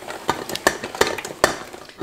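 A cold, partly frozen pot set onto a stove, a few sharp metallic clanks and knocks spaced irregularly over a couple of seconds, close and fairly loud.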